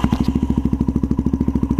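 A Yamaha TTR230 dirt bike, uncorked with regearing and rejetting, idles loudly and close by with a steady, fast, even thumping single-cylinder beat and no talk over it.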